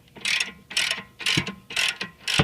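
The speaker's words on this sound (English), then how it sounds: "Now we're tightening up the sway bar link." Ratchet wrench tightening a sway bar link on a BMW E46 M3 front suspension, five quick close clicking bursts in an even back-and-forth rhythm, no voices.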